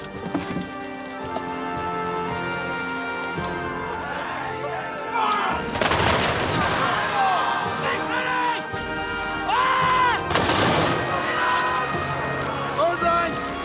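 Musket volleys from a line of soldiers in a Napoleonic-era siege battle: two loud, sharp bursts about four seconds apart, with shouted commands and background music throughout.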